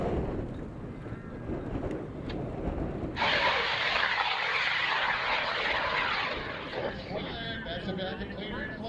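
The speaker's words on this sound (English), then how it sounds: "And this rocket goes in 10, 9, 8, 7, 6, 5, 4, 3, 2," A model rocket launches with a sudden, loud rushing hiss that cuts in and roars steadily, then gradually fades as it climbs away, with a voice heard over it.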